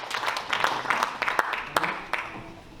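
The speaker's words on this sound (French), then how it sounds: "Un grand applaudissement pour Jean" Scattered audience applause for Jean at the 2024 general assembly of the CAPEB 06 building trades federation: a few sharp, uneven claps ring out close by over a low room hum.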